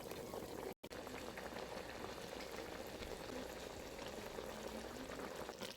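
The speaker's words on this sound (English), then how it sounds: "cover it and let it be on fire for about 5 minutes, 5 to 8 minutes" Shrimp and mushroom light soup bubbles in a covered pot, giving a constant, fairly loud simmering boil with a dense liquid rumble and no talking.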